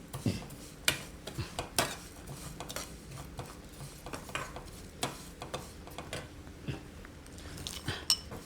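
Vermicelli frying in ghee, heard mostly as light clinks and taps of a metal spoon against the pan, irregular and close, over a faint low sizzle, with no talking.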